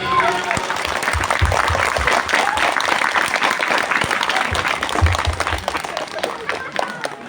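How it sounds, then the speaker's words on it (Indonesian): A crowd at a large Maulid Nabi celebration at an Islamic boarding school applauds a foundation, dense clapping that holds steady for several seconds and then thins toward the end. "tepuk tangan yang meriah dulu untuk Yayasan Al-Abidin"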